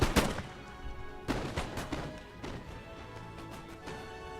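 Musket volley fire in the Napoleon Total War game during a Greece campaign battle: a loud, sharp crack opening the clip, then a second burst near 1.3 s with scattered shots and rumbling battle noise trailing off.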